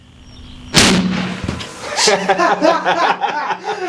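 A rifle fires a cast Lyman No. 2 lead bullet into a water jug: one sharp, loud crack, followed by a short burst and splash as the jug bursts, then scattered clatter and voices reacting.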